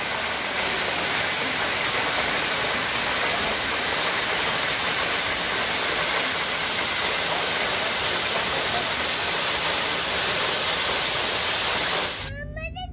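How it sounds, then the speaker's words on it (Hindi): Kapil Dhara waterfall at Amarkantak roars as a loud, dense, unbroken rush of falling water close by, cutting off abruptly near the end. "इस झरने को, इस जलप्रपात को देख करके मंत्रमुग्ध हो जाते हैं।"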